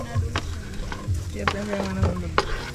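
Onions, tomatoes and garlic sauté in a pan at a beach camp, giving a steady close sizzle with repeated clinks and scrapes of stirring, while people talk close by.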